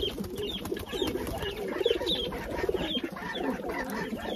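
Pigeons on a farm coo in soft, repeated low calls across the whole stretch, close by and continuous, with some faint clucking-like bird noises mixed in and no talking.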